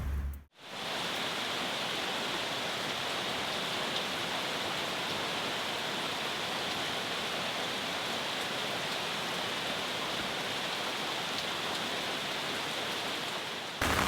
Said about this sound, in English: But it's raining and it will maybe break your phone